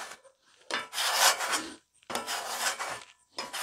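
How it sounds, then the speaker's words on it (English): Metal griddle scraper pushing stuck-on food residue across a flat-top griddle toward the grease trap, two long rasping scrape strokes and the start of a third, close and loud with short pauses between. "I take my scraper and I just start working all the excess food built up down into the grease trap right here."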